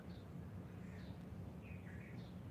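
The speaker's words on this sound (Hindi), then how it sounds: "पक्षियों की जो मधुर कलरव है, बहुत ही प्यारा लगने लगता है।" Birds chirping softly in the background, a few faint tweets scattered over a steady low hum.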